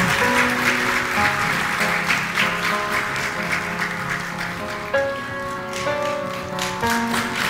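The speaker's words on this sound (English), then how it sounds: "With applause, please." Audience applause at an honorary doctorate ceremony at Ankara University, sustained clapping from a large hall crowd over a sustained musical or tonal background, steady and fairly loud throughout.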